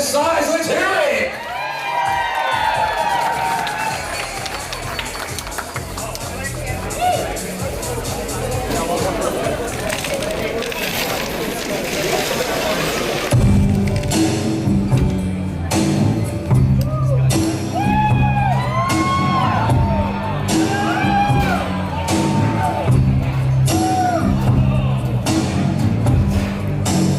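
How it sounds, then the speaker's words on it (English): A wedding reception crowd cheers and applauds the newlyweds: loud sustained clapping, shouts and whoops mixed with crowd babble, then music with a heavy beat kicks in halfway and the cheering continues over it. "a huge round of applause"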